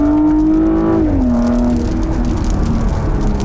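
A Porsche Cayenne S Coupé weaves left and right through a slalom, its engine humming loud and close with a steady tone that drops in pitch as it shifts, then settles into a lower drone.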